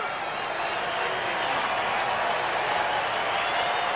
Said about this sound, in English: Crowd trying to push Trachsel through this confrontation.